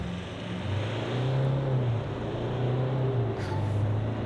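A 2024 GWM Cannon Alpha ute accelerates hard in sport mode with traction control off. The engine drones steadily and its pitch climbs and shifts through the gears, with no one speaking.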